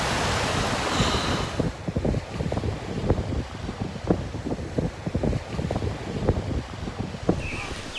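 Ocean waves at a beach with cold water: a steady broadband wash of surf with repeated crashing surges and wind noise, loud and close, with no talking.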